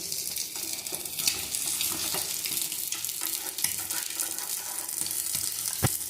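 Ladle omelette frying in a pan for breakfast: a steady, close crackling sizzle runs throughout, with occasional clinks and scrapes of a utensil and no talking.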